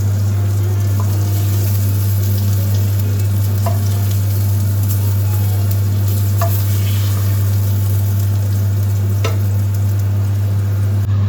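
Sliced red bell pepper frying over high heat in a pan already used for yellow pepper, a loud, constant close sizzle with occasional louder spits and crackles, over a steady low electrical hum.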